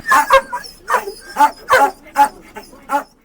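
A shelter dog in Kharkiv barks repeatedly at close range, about eight sharp woofs in an uneven rhythm with short pauses between them, no talking.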